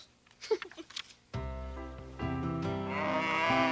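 A few soft knocks and rustles, then a cow gives a long, loud, low moo that swells and holds until the end.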